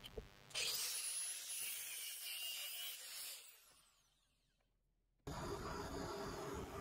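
A power tool grinds and cuts a piece off a metal bar for a few seconds, winds down, then starts up again loudly.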